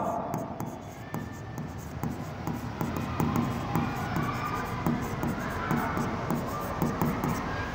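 Pen writing an account name by hand on paper, a steady scratchy scribbling that runs continuously at close range with quiet room background.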